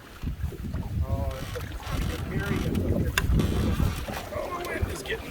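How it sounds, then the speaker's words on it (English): Gusty wind buffets the microphone with low rumbling surges while a canoe moves through a bog, and voices talk over it. "the wind is getting me"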